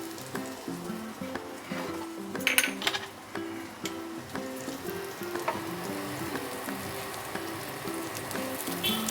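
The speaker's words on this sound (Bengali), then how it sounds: "তো এরকম আমি ভেজে নিচ্ছি।" Rajma (kidney bean) tikki fry in a pan, sizzling and bubbling continuously up close, with a few sharper crackles and spatters near the start and no speech.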